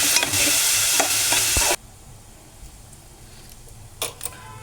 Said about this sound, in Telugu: కరివేపాకు, పచ్చిమిరపకాయలు, ఆనియన్స్ బాగా వేయించుకోవాలి.